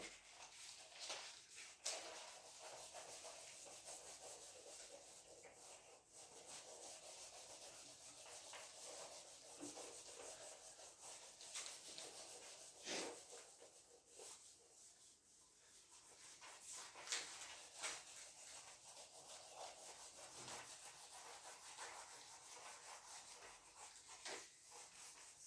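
Board eraser rubbing across a classroom board, a steady scratchy swish with repeated strokes, fairly quiet and close, with no talking over it.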